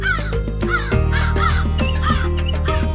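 Repeated harsh caws from a crow, used as an animation sound effect, coming in quick successive calls that are close and loud with no other sound around them.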